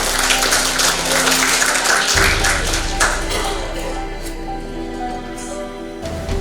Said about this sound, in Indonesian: Boleh dong tepuk tangannya Bapak Ibu